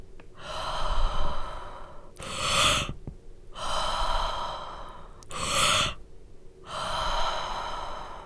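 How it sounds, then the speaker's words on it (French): Forceful Wim Hof method breathing, loud deep inhales alternating with rushing exhales in a slow regular rhythm, about five breaths close to the microphone with no talking. "c'est une respiration un peu bruyante"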